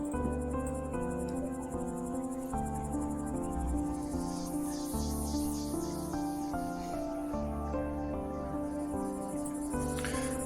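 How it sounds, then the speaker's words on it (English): Cicadas chirp steadily in a seaside scene in the video game The Remainder, a dense high shimmering buzz running throughout over a continuous layered musical drone, with no talking. "Wave crashes in the distance. Cicadas chirp, breeze caresses our hair."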